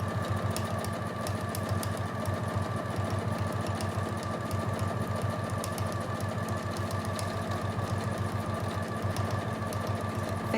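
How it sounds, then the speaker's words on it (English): Sewing machine stitching through layered fabric for quilting blocks, a close, steady rhythmic whirr and needle patter running continuously throughout without pauses. "Feels so funny to be just stitching through fabrics."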